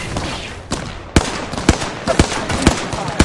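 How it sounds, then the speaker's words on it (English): Gunfire in the Apex Legends video game, a series of loud, sharp single shots spaced about half a second apart over a busy battle background. "They're shooting at me!"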